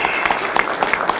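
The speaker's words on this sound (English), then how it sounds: "let's give them a round of applause for attending and making it possible" An audience at a university trustees conference claps for the attending regents, a dense, loud round of many hands with distinct sharp claps standing out close by.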